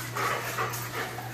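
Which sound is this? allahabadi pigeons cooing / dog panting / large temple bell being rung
dog panting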